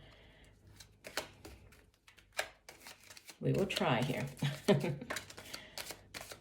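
Tarot cards riffle and shuffle in a short crisp burst, with a person talking quietly before and around it.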